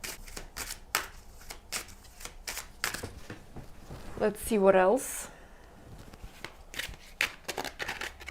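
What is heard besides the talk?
shuffling a deck of tarot cards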